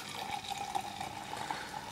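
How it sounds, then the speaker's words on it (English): Henneys Vintage still cider, 6.5%, is poured into a glass, giving a steady, faint liquid splash and trickle for a couple of seconds without talk. "it's a still cider, so I can pour it out like that"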